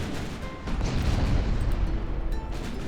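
Heavy naval guns from a battleship in Ultimate Admiral Dreadnoughts fire in a loud, booming salvo that swells after the first half-second, then a sustained low rumble of shots and impacts with no talking.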